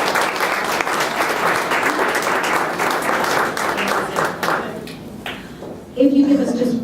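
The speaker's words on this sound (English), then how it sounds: "So, special clap for each of you." An audience at a New York City voter assistance meeting applauding, a dense, loud round of clapping that fades out, followed by a voice speaking.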